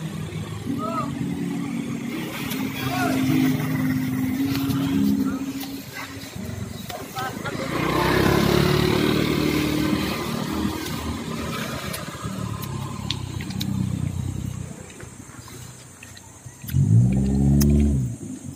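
A motorcycle engine runs in the open, a steady mid-pitched drone that swells as it revs and then settles, with a person talking over it and ambient noise throughout.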